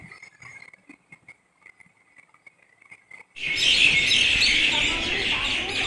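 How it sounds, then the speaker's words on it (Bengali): Dense chorus of birds chirping at dusk near a railway station, bursting in loud and continuous after a quieter stretch of scattered calls and faint voices. "দেখো পাখিদেরও বাসায় ফেরার পালা"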